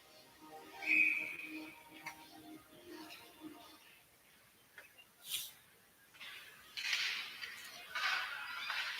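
A referee's whistle at a college ice hockey game between the Cards and the Michigan-Dearborn Wolverines gives one short, shrill blast early on, followed by scattered rink and crowd noise.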